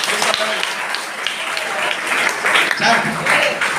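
A crowd claps and applauds steadily for a few seconds, a dense patter of many hands throughout.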